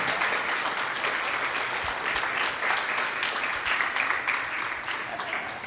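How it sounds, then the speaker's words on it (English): An audience gathered for a spiritual class breaks into dense, continuous applause, many hands clapping together at a steady, moderate level for several seconds, with faint voices mixed in. "Please may I have an applause for a wonderful class we had."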